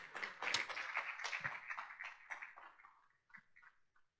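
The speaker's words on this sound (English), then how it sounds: "Can we please give him one more round of applause?" Applause from a ceremony audience for a minister, a smattering of claps that thins out and fades toward the end, fairly faint and distant.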